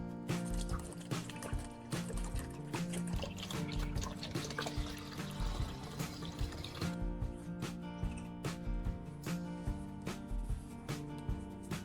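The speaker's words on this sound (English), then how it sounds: "Now the filtered electrolyte gets poured carefully back into each battery cell." Filtered battery electrolyte is poured slowly back into the cells of an old battery, giving soft trickling and dripping with small splashes that come and go.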